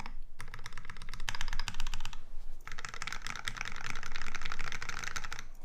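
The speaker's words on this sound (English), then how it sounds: "All of these switches, I mean, every position sounds really good." Fast, dense typing on a GSKT-00 mechanical keyboard build, crisp close-up clacks in two sustained flurries separated by a brief pause, loud and unaccompanied by talk.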